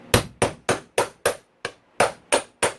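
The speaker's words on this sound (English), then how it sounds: "Alright, where's my hammer? Set it right here. This should do it." Nine sharp metallic hammer taps on a socket during KTM 450SXF transmission repair, in a steady rhythm, close and loud, with brief silences between strikes and one slightly softer blow.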